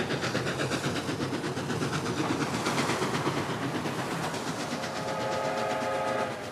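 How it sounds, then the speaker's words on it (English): An old locomotive that once hauled cross-country expresses pulls a Canadian passenger train, a loud rumbling run with rhythmic wheel clatter and a sustained whistle-like tone near the end. "Our first Canadian train is pulled by one of the locomotives that used to haul expresses right across the"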